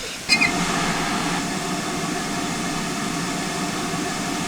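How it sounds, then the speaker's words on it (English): Steady broadband hiss of air as the brake is blown off on GWR 7800 Odney Manor, a steam locomotive, starting with a brief sharp burst and then holding loud and even for several seconds. "We blow our brake off."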